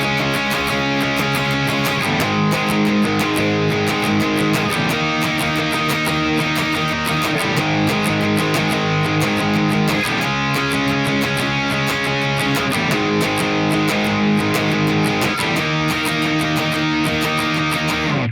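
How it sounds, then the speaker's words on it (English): Distorted electric guitar chugging power chords in steady straight eighth notes for the chorus of a song, loud, dense and continuous throughout, with no talking. "The power chords will sound like this now."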